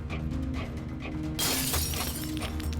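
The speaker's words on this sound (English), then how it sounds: "Suddenly there's a crash, the sound of glass shattering." Glass shatters with a sudden loud crash over a low background hum, the bright burst of breaking glass spreading and trailing off for over a second.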